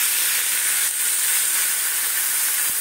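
Steam rising from vegetables boiling in a pan, a steady close hiss that holds evenly for the whole stretch with no voices.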